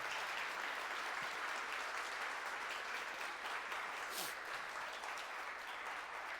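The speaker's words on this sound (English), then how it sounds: "can we give him a round of applause?" Audience at a Kansas City Oasis talk giving a round of applause, an even, continuous hiss of many hands clapping, soft and somewhat distant, holding steady for several seconds without talk.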